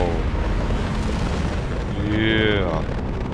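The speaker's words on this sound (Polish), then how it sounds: "Zaraz wybuchnie!" An explosion in the Mass Effect 2 video game, a deep booming blast under continuous gameplay noise, with a tonal chime-like sound following and a voice talking over it.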